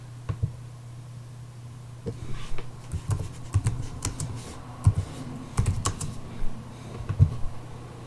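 Someone types a command on a computer keyboard while working in Kali Linux, producing close, irregular bursts of clicky keystrokes with short pauses between them.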